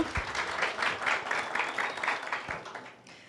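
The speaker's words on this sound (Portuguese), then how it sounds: "Aplausos para o Gustavo." A classroom group claps steadily for a few seconds, a brisk, moderately loud applause that tapers slightly at the end.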